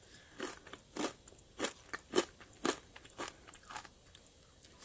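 Crispy Chinese roast pork belly being bitten and chewed up close, a series of sharp crackling crunches in an irregular rhythm, loud against a quiet background with no talking.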